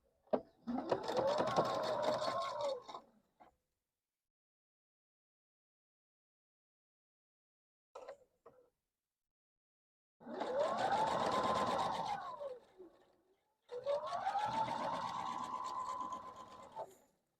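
A sewing machine stitches a quilt block in three bursts of steady whirring, about three, two and three seconds long, with short silences between them and a faint tick near the middle.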